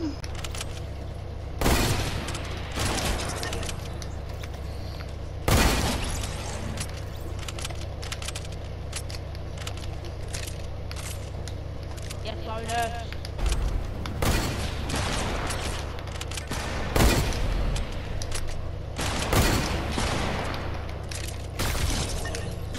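Sharp gunshots from sniper rifles in a video game ring out at irregular intervals, several loud distinct cracks over a steady low game background hum, with occasional voices in the mix.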